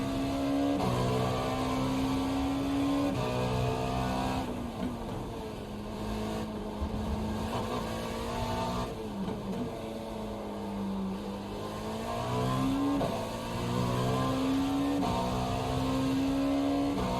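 A Dallara P217 LMP prototype race car at Road Atlanta in iRacing, its engine droning steadily and climbing in pitch with repeated upshifts, each marked by a sudden pitch drop before rising again.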